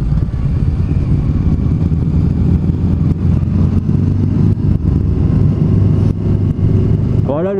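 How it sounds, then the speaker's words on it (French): A Triumph roadster motorcycle with a dry clutch runs steadily and loudly on a coastal ride, its engine throbbing nearby alongside other traffic, ending with a rising rev. "L'embrayage à sec. On l'entend d'ici."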